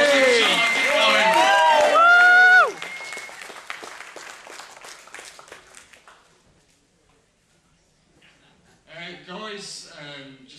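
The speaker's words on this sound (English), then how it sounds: "Come on, round of applause, keep going." A crowd at a car show assembly applauds briefly beneath a loud, reverberant announcer's voice over a PA; the clapping trails off into near silence before another voice starts speaking.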